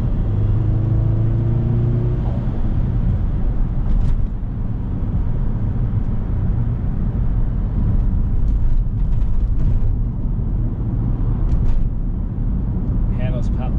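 A 2006 Subaru Legacy GTB with an imported 2.0-litre twin-turbo engine and manual gearbox drives on, its steady loud engine drone and road rumble continuous throughout, with faint clicks near the end.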